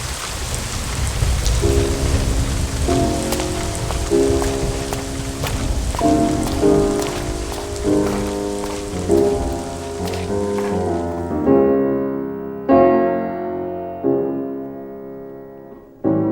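Heavy rain pouring at night, a loud dense wash running beneath piano music before cutting away, leaving the piano notes alone.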